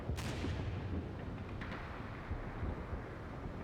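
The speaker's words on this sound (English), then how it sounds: "I shift some forces along the tree line and start to call in artillery" Artillery fire rumbles in a war video game, a dense, continuous low roar of distant shelling with a sharper blast near the start and another burst around the middle, no voices.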